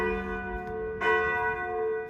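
A church bell in Romania rings out after a service with a long, shimmering hum, one fresh strike landing midway as the tone sustains.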